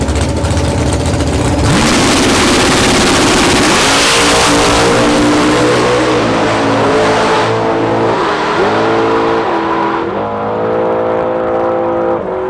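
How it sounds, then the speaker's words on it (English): A loud street-legal drag car engine roars at launch and climbs through several gear shifts as the car accelerates hard down the drag strip, pitch rising and dropping with each change. "We launched the car pretty aggressive because we knew the track was tight"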